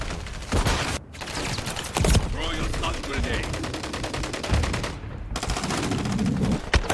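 AK 50 firing in Call of Duty, heard as rapid automatic bursts of gunfire with brief pauses, loud and close under a voice talking.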